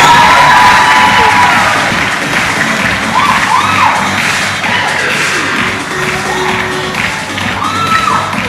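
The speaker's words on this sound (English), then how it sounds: "Round of applause for the winners." A loud, close crowd cheers and shouts for winners at a national research festival, a continuous roar of voices with rising whoops and yells throughout.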